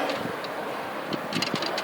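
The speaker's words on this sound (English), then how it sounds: "Man, it's windy out here." Steady wind roaring and buffeting across a microphone outdoors, a constant rushing noise with a few gusty bumps and no speech.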